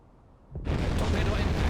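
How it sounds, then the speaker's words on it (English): A torpedo strikes a ship in the submarine game Silent Hunter 5, a sudden heavy blast after quiet that rolls on as a loud, sustained rumble, with voices talking over it. "Torpedo impact."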